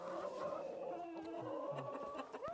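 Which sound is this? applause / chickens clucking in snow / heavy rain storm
chickens clucking in snow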